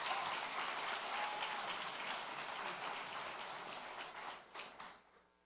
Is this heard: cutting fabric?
no